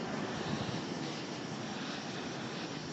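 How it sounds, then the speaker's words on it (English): A propeller airplane drones steadily overhead above an old Louisville residential neighborhood, a broad continuous rumble at constant loudness with no voices. "Here's another one of those planes."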